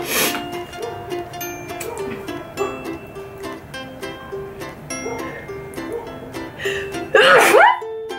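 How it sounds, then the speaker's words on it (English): Quiet background music plays, then near the end a single loud, sharp sneeze bursts out close by. "I'm gonna sneeze."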